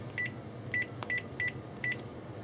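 Five short DTMF keypad tones evenly spaced as a number is dialed on a BlackBerry Bold work phone connected to a home PBX, clear and close with faint background hiss.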